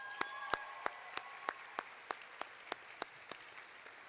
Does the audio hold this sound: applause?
yes